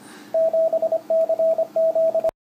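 A steady sidetone tone from a capacitive touch paddle key sending CW Morse code, with crisp dits and dahs in quick rhythmic groups, loud and close with no talk, stopping abruptly near the end.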